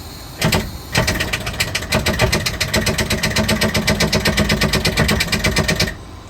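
Starter motor cranking the diesel engine of a 1982 Wanderlodge motorhome, a loud rapid rhythmic chugging that runs steadily for about five seconds without catching, then stops abruptly.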